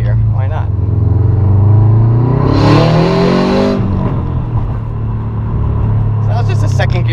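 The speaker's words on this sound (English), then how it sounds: "So that was just a second gear pull. Got a nice backfire there." A 2005 Subaru Impreza WRX STI makes a loud second gear pull, its engine note rising and swelling into a roar before easing off, with a crackling backfire toward the end.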